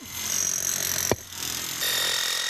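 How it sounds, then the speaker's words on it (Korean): Construction noise from workers building a long wall of stacked stones over 80 kg each: a continuous harsh drill-like grinding with a sharp percussive hammer-like strike near the middle, then steady machine whine. "드릴 소리와 망치 소리가 시끄럽게 뒤섞여 들린다"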